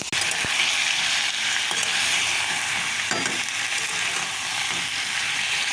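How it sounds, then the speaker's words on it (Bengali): Meat is stirred and cooked in a small pan, giving a steady close sizzle with occasional knocks and scrapes of the spatula. "চলো ফ্রেন্ড মাংসটা তাড়াতাড়ি করে নেড়ে চেড়ে বসিয়ে দিই"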